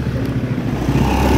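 A motorcycle engine rumbles steadily and loudly nearby, a low droning roll that rises slightly as it goes by.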